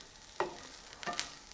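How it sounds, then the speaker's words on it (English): Vegetables sizzle in a hot pan as the base for a chicken pot pie, giving faint steady frying hiss with two brief louder stirring bursts, no talk. "now that that's sizzling a little"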